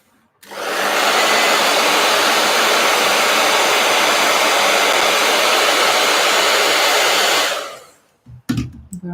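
A heat gun blows a loud, steady rushing stream of air for about seven seconds, starting and cutting off cleanly, followed by a few light knocks.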